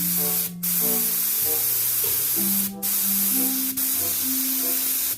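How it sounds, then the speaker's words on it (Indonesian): A spray gun sprays epoxy with a steady, close hiss. The hiss breaks off briefly between passes, and low tonal hum or music plays faintly underneath. "Cukup kita dengarkan bunyi desisan dari spray gun ini."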